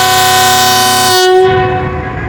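A Pakistan Railways Green Line passenger train passes close by, its loud sustained horn blaring for over a second before giving way to the rumble and clatter of the moving wagons.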